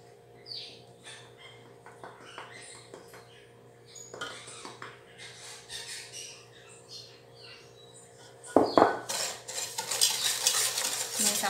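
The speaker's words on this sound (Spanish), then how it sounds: "Comenzamos a batir nuestra mezcla, ustedes pueden ver acá." Hand whisk beating Venezuelan bread cake batter flavoured with lemon zest in a bowl, a soft irregular scraping and tapping close by that grows louder and busier toward the end, with faint voices in the background.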